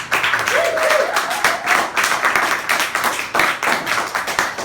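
An audience at an open stage music night claps for a performer, loose and uneven, with bursts of hand claps rising and easing off in waves.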